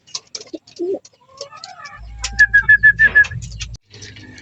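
Racing pigeon at a home loft, a short run of soft rhythmic cooing or whistling notes in the middle, amid scattered rustles and small bird sounds, with a low rumble underneath and no speech.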